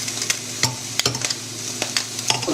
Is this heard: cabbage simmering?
yes